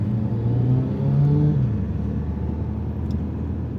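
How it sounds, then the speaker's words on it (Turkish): Motorcycles at a motorbike gathering in Mansfield, England ride past with a loud, continuous engine roar and a brief rising rev that dips and settles into a steady rumble. "Evet İngiltere'de motor şöleni."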